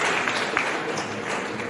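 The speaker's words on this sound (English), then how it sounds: "Have a good round of applause" Audience applause closing a discussion round at a young naturalists' tournament, a steady, dense wash of clapping that holds evenly throughout without any voices.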